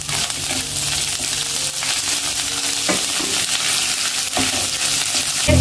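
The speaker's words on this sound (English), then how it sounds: "so I just prefer the frying, then you fry your ingredients, everything." Small omena fish fry in a pan, a steady, loud sizzle with crackling running throughout, alone with no voices.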